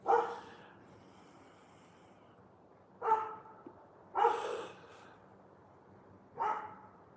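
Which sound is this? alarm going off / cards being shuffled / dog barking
dog barking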